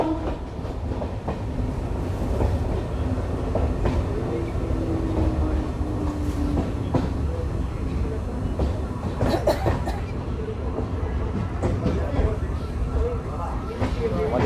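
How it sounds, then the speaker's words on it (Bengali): An ICF-coach Kalinarayanpur–Shantipur local train takes a curve, a steady close rumble of wheels and coach rattle with scattered clicks and squeals, while a voice talks over it throughout. "ট্রেনটি এই জায়গাটিতে খুব সুন্দর একটি কার্ভ নিচ্ছে দেখতে পাচ্ছেন"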